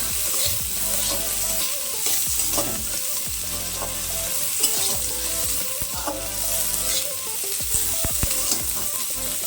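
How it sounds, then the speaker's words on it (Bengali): Chopped onions frying in oil with black cumin seeds in a pan, stirred with a utensil: a steady, close sizzle throughout with intermittent scraping stir strokes, no voices. "এর ওপরে আমি পেঁয়াজ কুচি দেব, দিয়ে একটু আমি নাড়িয়ে চাড়িয়ে নেব।"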